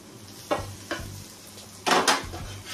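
Paneer being stirred in a pan of sizzling garlic butter, with a steady frying hiss broken by a few louder scraping stirs, two of them close together near the end.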